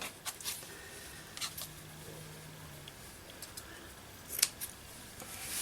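A few quiet, sharp snips of scissors cutting cheesecloth, scattered irregularly across a faint, otherwise quiet background.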